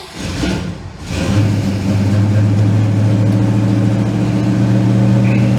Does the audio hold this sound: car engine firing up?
yes